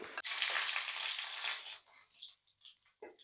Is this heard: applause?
no